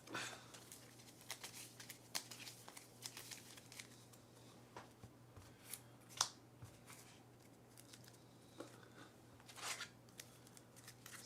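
A deck of game cards for the Earthborne Rangers tabletop game is shuffled with faint, close, irregular riffling and papery snaps, quiet against a low steady hum, with no voices.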